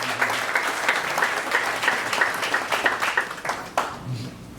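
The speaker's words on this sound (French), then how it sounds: "I would like you to applaud for" An audience applauds at a farewell tribute for an ambassador, with individual claps audible in an uneven, moderate patter and a voice briefly heard over the clapping.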